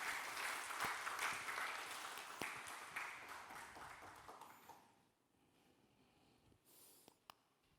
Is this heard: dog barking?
no